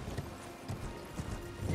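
Hooves of Torrent, the spectral steed in the video game Elden Ring, clip-clop in a quick steady rhythm, soft and close, over faint game ambience.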